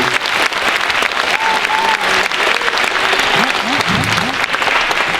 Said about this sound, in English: Round of applause for our percussion section.